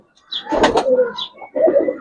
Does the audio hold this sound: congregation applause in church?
no